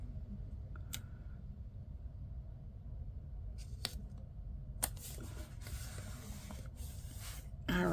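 Washi tape is torn in a few short, crisp rips amid quiet room tone, with small handling rustles around them.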